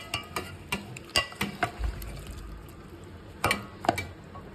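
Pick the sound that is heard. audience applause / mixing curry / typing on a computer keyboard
mixing curry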